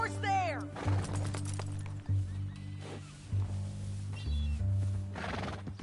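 A horse in the video game Red Dead Redemption 2 gives a loud, close whinny at the start, its shrill call falling in pitch, followed by snorts and hoof movement over a steady low droning background, with voices speaking.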